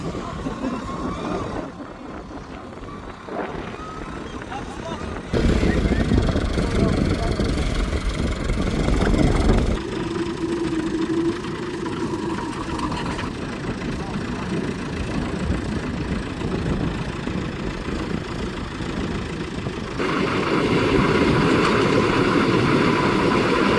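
A 640 tractor engine chugs steadily at idle, rising louder partway through and shifting in pitch, with a continuous low mechanical rumble throughout.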